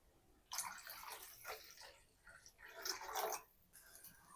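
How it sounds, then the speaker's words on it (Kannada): Water poured into a cooking pot at home for a quick tamarind rasam, a soft close splashing gush in two short pours with no talk. "ನಿಮ್ಗೆ ಎಷ್ಟು ಬೇಕೋ ಅಷ್ಟು ನೀರು ಹಾಕ್ಕೊಳ್ಳಿ."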